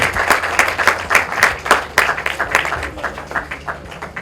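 Loud rhythmic clapping from a crowd at a film trailer launch event in honour of a singer, sharp close claps repeating quickly for a few seconds before tapering slightly.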